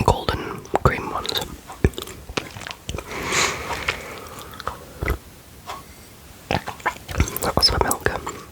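Close, crisp bites and chewing on British biscuits such as chocolate and golden cream varieties, with soft mouth sounds and quiet whispering between the crunchy bursts.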